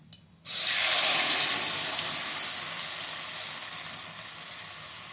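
Batter poured into hot oil with a fried tempering of spices for a semolina and gram flour snack, bursting into a loud, sudden sizzle after a brief quiet moment, then a steady hiss that slowly fades.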